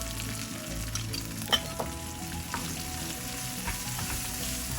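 Hot oil sizzles steadily with asafoetida and turmeric in a tempering for lemon rice, a constant close frying hiss broken by a few soft stirring clicks, with no talk.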